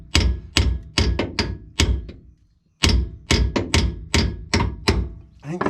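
A hammer strikes hard on a stuck bolt in sharp, loud metallic knocks, fired in quick irregular bursts with a short pause midway, close and alone without talk.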